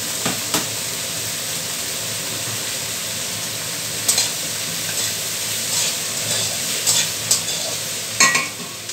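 Prawns and potatoes fry in a pan for a chichinga kofta dish, a steady close sizzle with stirring clatters and sharp utensil scrapes at intervals, no voices.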